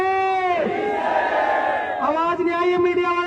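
A crowd at a village sit-in protest chants a slogan together in loud unison, the shout swelling in the middle and then trailing into more ragged voices near the end.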